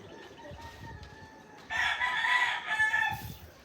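A rooster crows loudly midway through on a cold morning in the rural Philippines, its harmonic call rising over faint background bird chatter and low outdoor noise.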